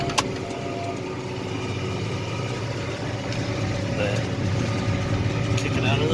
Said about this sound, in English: It's still a 70 horse tractor.